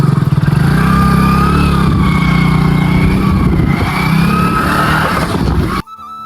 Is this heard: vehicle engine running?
yes